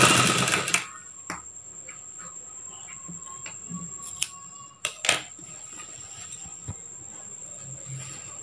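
A sewing machine stitching a churidar top whirs in short, separate bursts between quiet gaps, with a faint steady background tone and a few sharp clicks, near and alone without speech.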